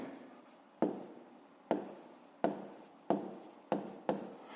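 Pen strokes on paper come in six separate bursts, each a sharp scratch that fades, with quiet gaps between and no voice over them.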